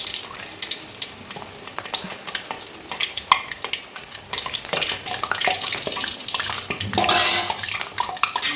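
Food being stirred in a pan in a home kitchen, a steady scraping and light sizzling texture with irregular clinks, continuous and close, growing slightly louder near the end.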